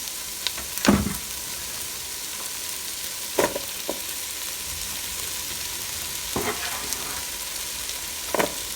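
Potatoes sizzling in a Ninja Foodi multicooker that has been switched off, a steady broadband frying hiss with a few sharp clatters from the food going in, no voices.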